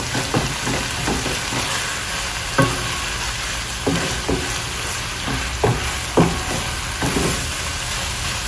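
Bacon and onions frying together in a pan make a dense, continuous sizzle close by. Sharp scraping clicks from stirring recur every second or so, and no one speaks.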